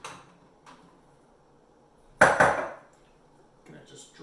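A knife strikes onions for salsa on a cutting board a couple of quick, sharp times in a short burst, with near silence before and after.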